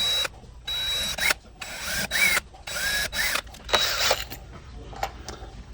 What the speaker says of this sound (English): now that your holes are drilled